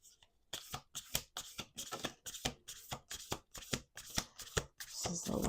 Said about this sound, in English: This is the last shuffle,